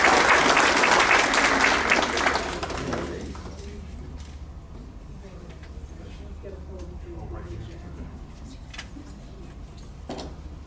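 Applause from an audience at a school district staff awards ceremony, loud and dense for about three seconds before fading out, leaving a quiet room with scattered small noises.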